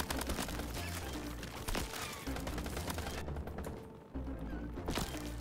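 Rapid gunfire in the Crab Champions video game, a dense, continuous volley of cracking shots and bursts, fairly quiet overall, with a brief lull before firing resumes near the end.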